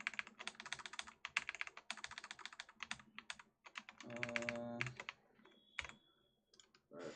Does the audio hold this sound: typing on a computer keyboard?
yes